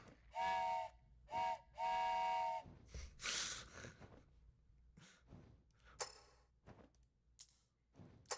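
A wooden whistle shaped to mimic a train whistle gives three loud, clear hoots in quick succession, followed by quieter rustling and clatter.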